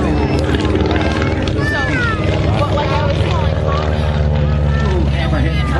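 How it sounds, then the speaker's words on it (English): A large metal-propeller airplane drones loudly at an air show, a steady low engine hum with propeller buzz and shifting whines, while people talk over it throughout. "That swings a great big propeller, doesn't it?"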